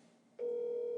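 A phone's ringback tone on an outgoing call starts abruptly partway through and holds as a loud, steady single pitch to the end, with quieter background noise before it.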